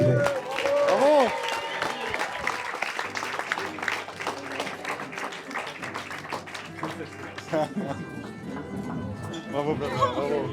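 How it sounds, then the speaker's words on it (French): Wedding guests applaud the bride and groom, with rapid, crowded clapping mixed with cheers and excited voices. The sound stays lively and fairly loud throughout, and talking and calls rise over it toward the end. "Encore un tonnerre d'applaudissements pour les mariés"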